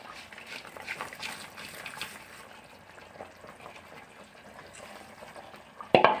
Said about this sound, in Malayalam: നമ്മുടെ അരപ്പൊക്കെ ഇവിടെ തിളച്ച് നന്നായിട്ട് വന്നിട്ടുണ്ട്.